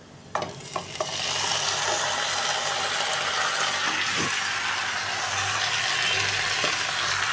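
Chicken pieces hit a pan of fried onions, and the sizzle surges into a dense, loud, continuous hiss. A few stirring scrapes come early and one or two clinks follow, with no voices.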